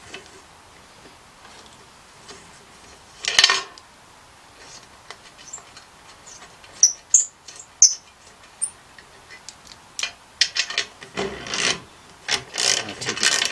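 A tap cutting new threads in a bolt hole of a Ford Fiesta engine, heard as sparse scraping, rasping and small clicking bursts close up, turning in short intermittent strokes with no talk.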